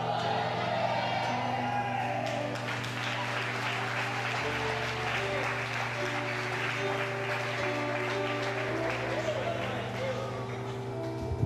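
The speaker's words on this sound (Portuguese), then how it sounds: "Só quem crê, dá um grito de glória." A church congregation shouts, whoops and cheers in praise, a loud, sustained crowd roar that swells after a few seconds and holds steady to the end, with music or a low drone underneath.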